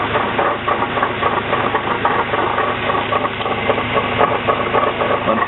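A car engine held in second gear runs steadily and close, with a knocking, rattling drivetrain noise from the transmission and axles running through it without a break.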